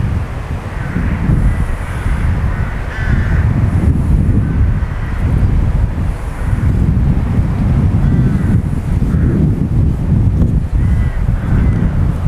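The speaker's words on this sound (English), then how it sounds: "Wind just picking up a little bit just off the back of us." Gusting wind buffets the microphone on a carp fishery bank, a continuous low roar that swells and eases in waves over more than ten seconds, loud and close throughout.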